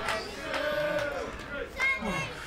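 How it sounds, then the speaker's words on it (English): Wrestling crowd at a PW Clash championship match cheering and shouting in appreciation, a steady roar of many voices with a commentator talking over it. "And the crowd's showing their appreciation as well."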